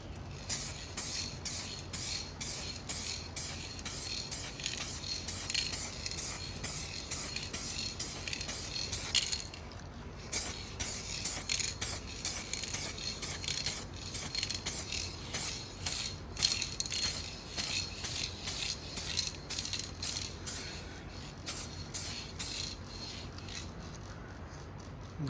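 An aerosol spray paint can hisses out a second light coat on a Dodge Durango quarter panel during a DIY rust repair, in a long series of short, rhythmic bursts with brief gaps, close and fairly loud.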